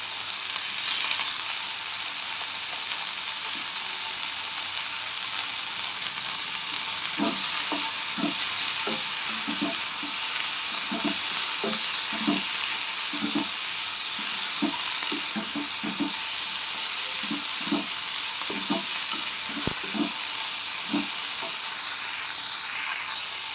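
Grated coconut stirred through a chutney mixture in a frying pan: a constant sizzling hiss with a series of soft scraping spatula strokes at an irregular rhythm, close and unaccompanied by talk.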